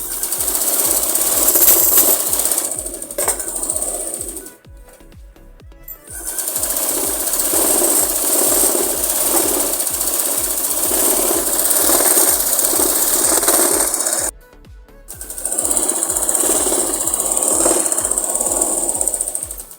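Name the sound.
sewing machine stitching a plazo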